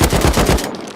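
An AK rifle with attachments firing in the game Rust: a rapid automatic burst of about six sharp, loud shots in under a second, then a quick fading tail.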